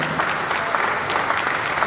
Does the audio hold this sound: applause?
yes